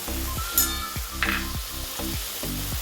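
A pan of prawn malai curry with coconut milk, cashew paste, salt and sugar is stirred over the heat, with soft sizzling, regular scraping strokes and a steady low hum nearby.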